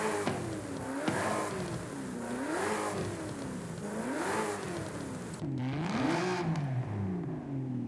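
A 426 V8 from a Challenger in Forza Horizon 5 revs repeatedly, its pitch swinging up and down in smooth waves over a steady engine drone, with a short dip before climbing again, no talking.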